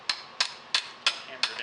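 A hammer drives a 3/8 inch bolt through a pipe and board while building a modular truck flagpole mount: five sharp, evenly spaced metallic strikes, each with a brief ringing decay, close and loud.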